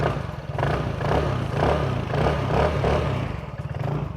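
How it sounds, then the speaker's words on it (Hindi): A TVS Ntorq 150 scooter engine idles close by with a pulsing exhaust note, the throttle blipped in several rising revs, loud and without talk. "आइडियल कंडीशन पर इंजन साउंड सुनिए, एग्जॉस्ट नोट सुनिए। थ्रॉटल देता हूँ अब मैं।"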